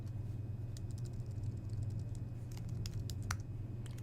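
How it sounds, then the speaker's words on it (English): A few letters typed on a computer keyboard: a short run of light key taps, close and quiet over a steady low hum. "By typing a few letters, you can find your organization."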